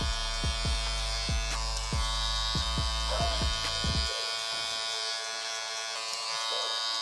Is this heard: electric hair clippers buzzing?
yes